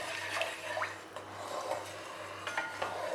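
A spoon stirs ghee and kesari colour in a metal pot for rava kesari, giving soft repeated scraping and clinking strokes against the pot, close and moderately quiet over a steady low hum.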